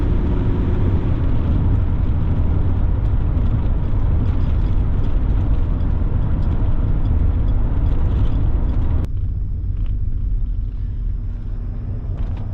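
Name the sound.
1979 Cadillac Deville engine accelerating after throttle kickdown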